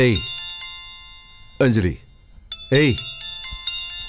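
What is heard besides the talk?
mobile phone ringing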